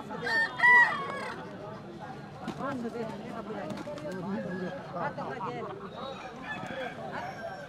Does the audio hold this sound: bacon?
no